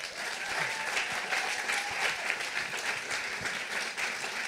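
Audience applause fills a science slam hall as a speaker is welcomed onto the stage: a dense, steady wash of many hands clapping, loud and sustained throughout with no pauses.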